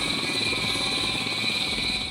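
A life flight medical helicopter takes off, its engine and rotor making a loud, steady whine and rapid thudding beat that fill the scene without letup.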